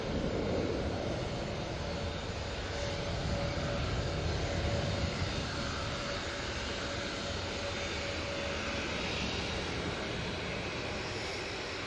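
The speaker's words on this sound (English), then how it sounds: "We've got first of our Qatar Dreamliners now on the taxi." A Qatar Airways Dreamliner taxiing at Manchester Airport gives off a steady, loud jet engine roar with a faint sustained whine, continuous and unbroken throughout.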